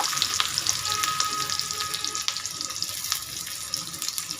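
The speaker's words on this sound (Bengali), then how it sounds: "পেঁয়াজটাকে আমি ভেজে নেব।" Sliced onions go into hot oil and fry with a loud, dense, continuous sizzle and crackle, close up, with occasional sharper pops and no voices.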